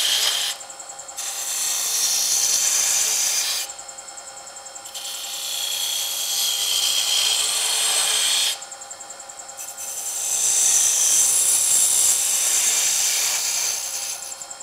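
A spindle gouge cuts a cove into wood spinning on a lathe, making a loud, steady shearing hiss in three long passes separated by brief pauses, with no talking.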